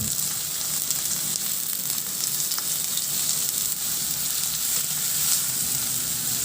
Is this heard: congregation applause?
no